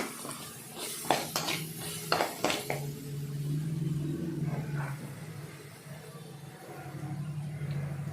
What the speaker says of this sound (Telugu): అది కూడా కొద్దిగా ఫ్రై అవ్వాలండి ఫ్రై అయ్యేదాకా మనం కలుపుకోవాలి ఇక్కడ